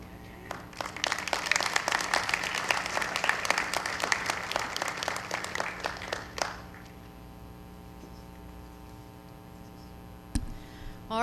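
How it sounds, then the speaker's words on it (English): Applause fills a school board meeting room: brisk, dense clapping from the audience lasts about six seconds and then stops abruptly, leaving a steady electrical hum with one faint knock near the end. "another round of applause to Audrey and Christian"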